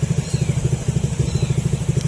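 A motorcycle engine idles close by with a rapid, even, low putter that repeats steadily throughout.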